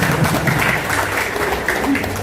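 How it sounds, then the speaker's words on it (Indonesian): Applause from an audience at a direct-selling business seminar in Surabaya, a steady broadband clatter of many hands clapping that fills the short moment at moderate loudness. "Tepuk tangan."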